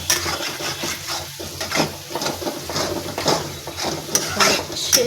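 Egg bhurji being stirred in a pan, with soft scraping and clinking of a spoon against metal and light sizzling, close and fairly quiet, with no talking.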